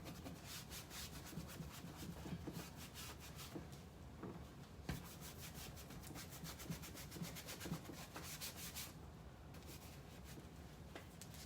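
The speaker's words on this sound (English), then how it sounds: "I'm swirling and pushing because I want the dark wax to get into the detail." A brush swirls and pushes dark wax into carved wood detail, giving a steady close scrubbing and rubbing sound with rhythmic strokes throughout.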